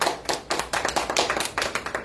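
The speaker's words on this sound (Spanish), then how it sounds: "¿Cuánto le da un aplauso al Señor en esta hora?" Church congregation clapping in praise during a Spanish-language service, a steady, fairly rhythmic applause of many hands with regular beats, close and moderately loud for about two seconds.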